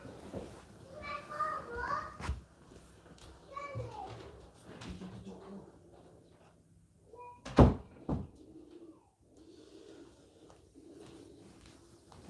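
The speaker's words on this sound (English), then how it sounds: "Let me just go and close the door." An indoor door is shut partway through, landing as one sharp knock amid quieter household sounds, with voices talking before it and children faintly audible in the background.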